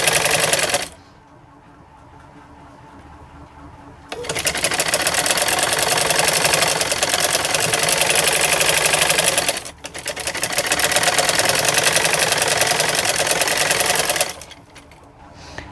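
A sewing machine stitches kurti fabric in two long, loud, rapid runs, separated by quiet gaps and a brief stop, its close mechanical chatter steady throughout.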